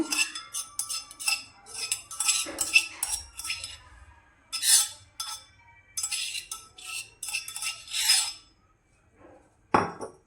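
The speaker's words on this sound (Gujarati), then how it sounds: "આવી જ રીતે આપણે બધું ખાંડી લેવાના છે ગુલાબના પાન।" Rose petals being pounded for gulkand, heard as a series of close, irregular knocks and clinks of a pestle, in bursts with short pauses between, ending in one sharper strike.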